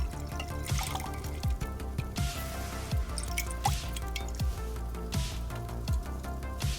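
Liquid is poured into a vessel in a video game while potion ingredients are ground and mixed: continuous gurgling and dripping with repeated glugging pulses, close and steady, with no talk.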